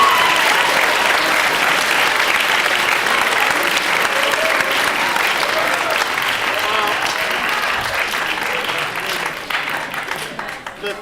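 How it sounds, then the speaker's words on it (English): Audience applause after a fall festival student performance of Shakespeare's Much Ado About Nothing: dense, sustained clapping from a large crowd, steady and loud throughout, thinning slightly near the end. "this is a chance for you to clap to yourself for your first successful"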